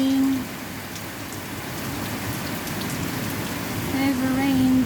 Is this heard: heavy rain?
yes